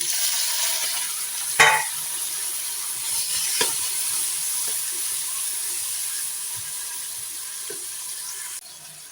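Tomatoes go into a hot frying pan, giving a steady hiss of sizzling with a sharp clatter early on and a few faint scrapes, continuous and alone.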